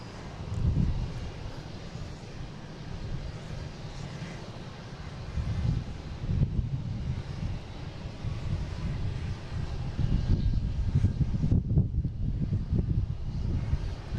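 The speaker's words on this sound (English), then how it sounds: "Got a JetBlue coming in from Bozeman." A JetBlue Airbus A320, flight 256 from Bozeman, arrives at Boston Logan airport as a faint, distant low rumble that stays steady and swells slightly toward the end.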